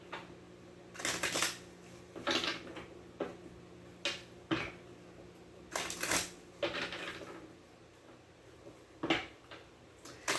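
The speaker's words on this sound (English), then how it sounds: "So let me just pull a clarifying card." Tarot cards are shuffled by hand in a series of quick riffling bursts and soft slaps spread irregularly across the stretch, close and fairly quiet, no voices.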